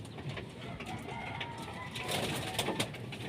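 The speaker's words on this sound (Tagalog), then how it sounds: "Kalapati ni Camille, nandito, dalawa, inakay. Dumapo." Racing pigeons arriving at a home loft, with soft cooing and bird calls blended into steady outdoor ambience and brief rustles, moderately close throughout.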